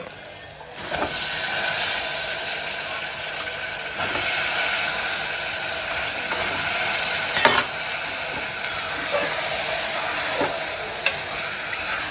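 Steady hissing and sizzling of vegetables cooking in a pressure cooker, with occasional stirring clatters, close by and continuous without talk.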